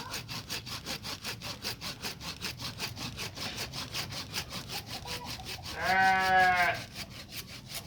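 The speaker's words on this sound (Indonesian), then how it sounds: "Waru itu cukup menjepit ya ketika kita potong dengan gergaji ya." Steady back-and-forth rasping of a hand saw biting through a waru bonsai trunk, repeated strokes at an even pace, with a brief higher squeal near the end.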